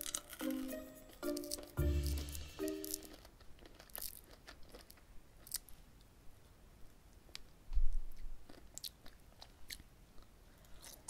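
Japanese Glamatic sweets are chewed like chewing gum close up, giving soft crunches and wet chewing with occasional wrapper crinkles. Brief bursts of music play early on, and there is no talking.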